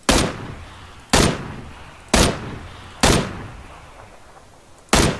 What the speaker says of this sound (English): See a guy laying down, I'm gonna take shots.